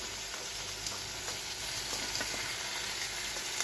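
About 1.5 kg of chicken liver frying in a pan with onions, producing a continuous close crackling sizzle with small pops throughout and no talking.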